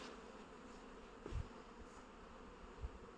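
Honeybees hum at an apiary in a steady, soft, diffuse drone of many insects, with a couple of brief low thumps and no voices.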